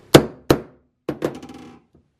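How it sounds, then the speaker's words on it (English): Four sharp hammer blows stamp bolt holes through a lead gasket pad, up close and loud. They come in two pairs with a short gap between, and the second pair ends in a brief metallic ring. "So what I need is a hammer"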